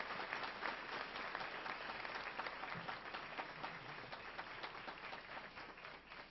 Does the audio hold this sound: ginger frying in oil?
no